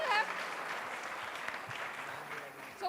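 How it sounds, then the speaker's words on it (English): An audience at a science outreach program in Pune applauds after a correct answer, a soft, distant round of clapping from a crowd, fairly faint and steady, with a voice briefly audible at the edges. "Give it a round of applause"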